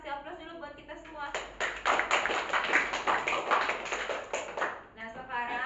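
A classroom of students applauds together in a dense burst of clapping lasting about four seconds, with a voice speaking just before and after.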